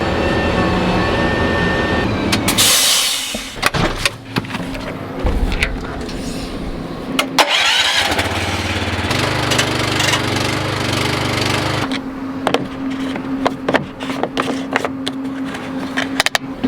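Tractor engine running close by, a loud, steady mechanical drone with shifting tones, clanks and brief bursts of noise.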